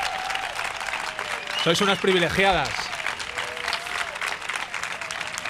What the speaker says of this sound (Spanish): Qué bien sientan los aplausos.